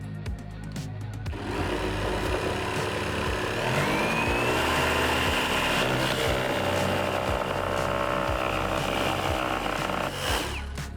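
A cordless jigsaw cuts steadily with its pendulum action set to zero, giving a continuous buzzing motor whine with a faint rhythmic pulse that runs without a break for most of the stretch, close and fairly loud.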